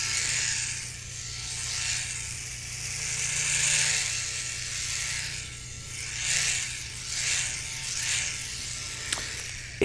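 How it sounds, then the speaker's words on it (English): An electric facial cleansing brush buzzes and whirs while it is rubbed right against a microphone, a close, steady hum that swells and brushes in waves, with no talking. "It's a cleansing brush for your face, and I actually do use it."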